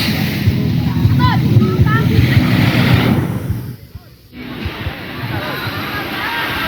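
Steady rush of sea waves at a beach where many people are swimming, broad and continuous with wind buffeting the microphone and faint distant crowd noise, briefly dipping near the middle.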